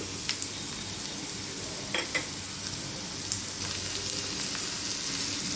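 Diced carrots and chopped green chilli sizzle steadily in a hot pan for veg fried rice, with a constant close frying hiss and light scraping from stirring throughout.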